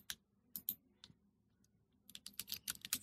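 Computer keyboard typing text, a few scattered key clicks, a pause, then a quicker burst of tapping near the end, close and quiet.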